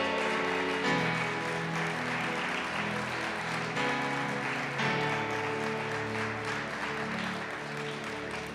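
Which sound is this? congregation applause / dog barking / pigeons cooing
congregation applause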